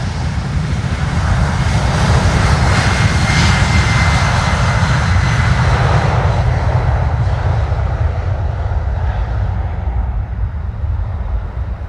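A small LATAM cargo airplane with two wing-mounted turbines takes off from a runway, a loud, steady roaring jet rumble that holds strong throughout and begins to thin out near the end.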